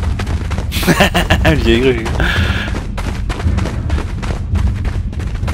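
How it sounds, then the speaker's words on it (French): Gunfire from a gun in the Fortnite video game cracks out in a rapid burst of loud, close shots, then scattered further shots, while someone speaks briefly in French. "J'ai trouvé un gun les gars, j'ai un gun."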